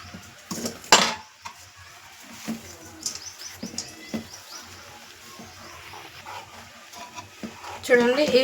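Uggani, a Rayalaseema puffed-rice dish dusted with ground lentil powder, being stirred and mixed in a pan, giving soft intermittent scraping and clinks close by, with a few louder knocks and light rustling throughout.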